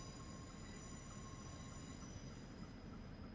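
A Class 411 electric train in a train simulator game rolls out of a station, a steady broadband rumble with faint wheel squeal, continuous and even throughout, with no talking.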